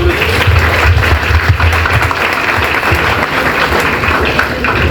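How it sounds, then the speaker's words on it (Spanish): A class of students applauds at the end of a university lecture on influenza viruses, loud dense clapping filling the room continuously for about five seconds. "Muchas aplausos."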